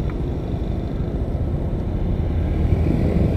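A motorcycle rides along a quiet town street in Genteng, Banyuwangi, and turns around, its engine a steady close low drone mixed with wind and road rumble, no voices.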